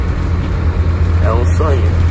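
A truck carrying a 12-tonne load accelerates with a loud, steady low engine drone heard from inside the cab, while faint voice-like chirps sound briefly over it.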